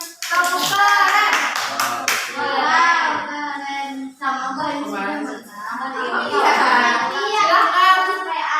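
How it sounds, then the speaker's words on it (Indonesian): A school class claps for a group of pupils, sharp bursts of hand claps mixed with children's voices and chatter, loud and close, the clapping strongest at the start and recurring in patches. "Tepuk tangan untuk kelompoknya Firhan."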